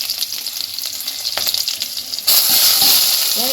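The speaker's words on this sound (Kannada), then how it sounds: "ನೀರುಳ್ಳಿ ಪೂರ ಪಾದು ಮಿಕ್ಸ್ ಮಾಡ್ತೀವಿ ಫ್ರೈ ಮಾಡ್ಬೇಕ" Sliced onions sizzle and fry in hot oil in a pan, a steady close crackle that swells louder partway through, with no talk.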